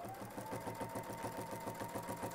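A sewing machine stitches a quilting border guided by a Westalee ruler, running fast and steady with a close, even mechanical rhythm and no talking.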